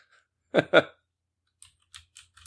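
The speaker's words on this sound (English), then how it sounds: "I'm going to leave that crazy-ass mechanical keyboard in there." Clicky keys of a mechanical keyboard tap out a short, sparse run of keystrokes, close and fairly quiet, following two brief louder sounds at the start.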